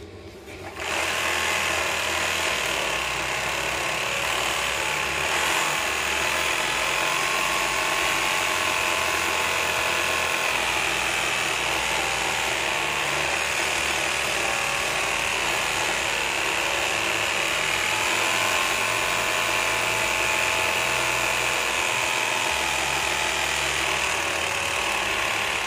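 An overlock serger machine stitches along the edge of a trouser leg, a fast continuous mechanical whir and clatter running steadily close by, with no talk over it.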